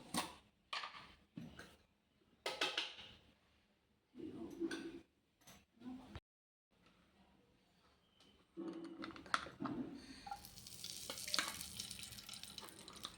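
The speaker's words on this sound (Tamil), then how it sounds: "முந்திரி திராட்சை எல்லாத்தையும் வறுத்துக்கலாம்" Cashews and raisins fry in a pan for a foxtail millet laddu, heard as close, uneven bursts of sizzling and stirring scrapes, a brief silence, then a steadier, louder hiss of frying.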